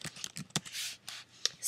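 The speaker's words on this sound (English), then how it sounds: "typing in QuickTime," Quick bursts of keystrokes on a computer keyboard, close and fairly faint, with uneven taps and short pauses and no voices.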